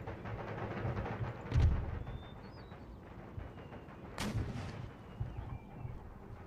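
Artillery fire from a unit of guns in Empire Total War, a napoleonic-era strategy game: two heavy booming volleys roughly three seconds apart, each followed by rumbling decay over a continuous battlefield din.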